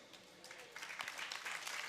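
Audience clapping at a religious festival gathering, soft and distant, a steady patter of many hands that swells slightly midway and continues evenly.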